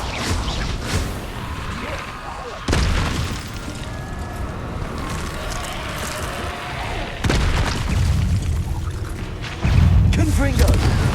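Confringo spell blasts in Hogwarts Legacy combat: several heavy booming explosions land at intervals amid continuous rumbling battle noise and whooshes, with a voice talking over parts of it.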